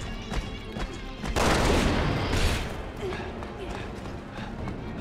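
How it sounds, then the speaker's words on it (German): Gunfire in Resident Evil 6, a burst of loud shots and booming impacts in the middle, with scattered softer shots and game noise around it while a person talks over it. "Ja, ich schieß drauf."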